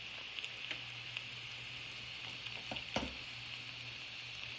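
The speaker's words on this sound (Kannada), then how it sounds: "ಇದಿಷ್ಟನ್ನು ಹಾಕಿ ಇದನ್ನು ಚೆನ್ನಾಗಿ ಫ್ರೈ ಮಾಡ್ಕೋಬೇಕು" Garam masala, amchur powder and other ground spices frying in a pan, giving a steady, close sizzle with a faint crackle and a few soft stirring knocks, no talking.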